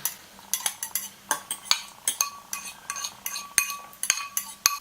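A spoon mixes coleslaw salad with mayonnaise in a bowl. Light clinks and wet scraping strokes come close up at a steady, brisk rhythm, fairly quiet, with no voices.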